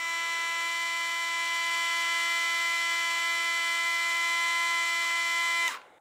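Steady high whine of a Bosch GO 2 electric screwdriver spinning in reverse at about 318 rpm, a bright sustained motor tone held evenly for several seconds before it stops abruptly.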